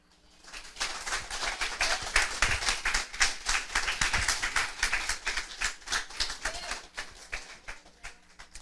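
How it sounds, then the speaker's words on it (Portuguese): A church congregation claps in rhythm, sharp regular hand claps building quickly and holding steady before thinning toward the end, with no talk over them. "Olha, amados, quer aplaudir?"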